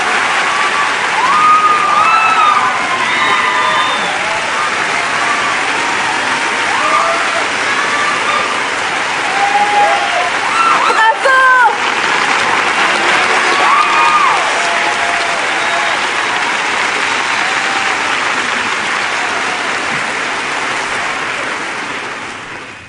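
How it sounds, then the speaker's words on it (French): Loud, sustained audience applause with some cheering and faint voices mixed in, a thick continuous roar of clapping that briefly swells midway and tapers near the end. "Des applaudissements, s'il vous plaît."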